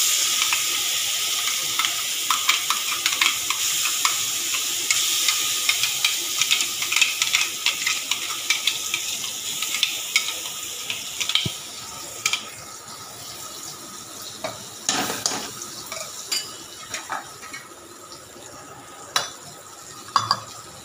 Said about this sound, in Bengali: এই যে তেলটা গরম হয়ে গেছে, এই পেস্টটাকে এর মধ্যে দিয়ে দেবো।